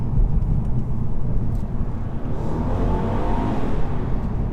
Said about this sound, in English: you can see there's potential for a good noise to come out the exhaust system